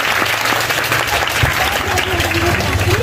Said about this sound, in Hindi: अबू बकर के लिए तालियां होनी चाहिए